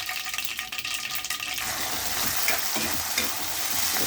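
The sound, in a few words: onion, garlic, seeds and curry leaves frying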